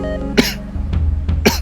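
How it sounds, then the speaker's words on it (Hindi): A man coughs repeatedly during a phone call in a Hindi family TV drama scene, with harsh bursts close to the mic and low hum between them. "खांसी बहुत है मुझे"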